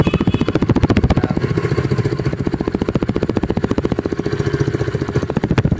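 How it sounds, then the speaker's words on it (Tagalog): A 2024 Rusi Sparkle 150i scooter idles close by, its engine and exhaust putting out an even, rapid low pulse that holds steady throughout without rattling. "Grabe ang tahimik po ng kanyang tambucho."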